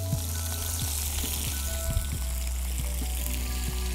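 Fish frying in a hot pan gives a steady, close sizzle with soft crackling pops scattered throughout, no voices.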